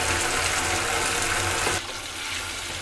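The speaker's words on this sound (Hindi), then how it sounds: "थोड़ा सा पानी ऐड कर लूँगी।" Water poured into a pan of frying onions, a loud hissing gush for about two seconds that drops abruptly to a quieter simmer.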